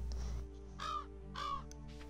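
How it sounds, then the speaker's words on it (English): In the farming video game Stardew Valley, crows give two clear caws spaced about half a second apart over a steady low hum of game background sound. "Okay, crows didn't eat my crops."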